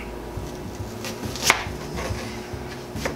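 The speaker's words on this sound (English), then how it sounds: "So we're just gonna cut this in very uneven slices because that's how we do everything now." A knife slices food into uneven pieces on a cutting board in a home kitchen during Swiss steak preparation, with soft repeated cutting taps and one sharper chop standing out near the middle.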